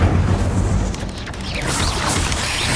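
Incendio fire spell cast in Hogwarts Legacy, a loud sustained whooshing, roaring burst of flame with a deep rumbling low end that stays dense for about three seconds.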